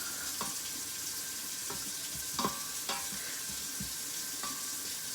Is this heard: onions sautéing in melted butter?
yes